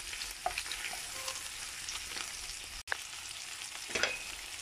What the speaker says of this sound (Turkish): Şöyle altı üstü iyice kızarması gerekiyor.